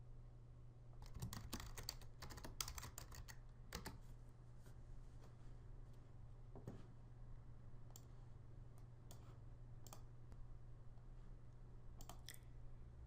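Keyboard typing in bursts of quick clicks, close and fairly quiet, with irregular pauses between runs of keystrokes over a steady low hum, no one talking.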